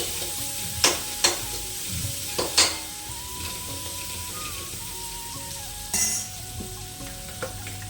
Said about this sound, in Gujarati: ચલો તેલ આવી ગયું છે અને હવે કટિંગ કરેલી પાછળથી નાખી દઈએ